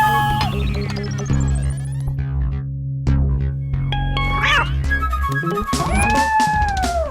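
A cat meows several times in a house, the calls mixed with music and other sound effects, with drawn-out, wavering meows near the end.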